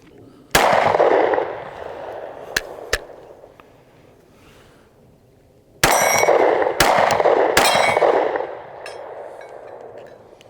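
Gunshots from a PSA Micro Dagger pistol, a few sharp, loud reports spaced irregularly, each followed by a brief ringing decay outdoors, with one pair close together near the end.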